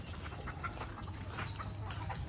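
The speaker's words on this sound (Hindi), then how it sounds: "मैंने सारे मुर्गा मुर्गी अभी छोड़ दिए हैं" Chickens and roosters just let out of their coop on a poultry farm cluck and squawk in scattered bursts, a busy flock heard at moderate distance over steady outdoor noise.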